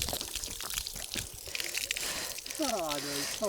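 Water splashes and pours as feet and face are washed in cool water at Nagiri Fort, a steady close trickle under a person talking, with a voice rising near the end.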